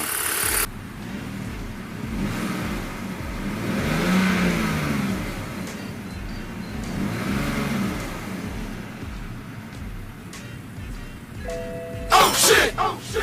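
A BMW E60 car engine runs steadily and rises in a couple of slow revs, with a brief chime near the end.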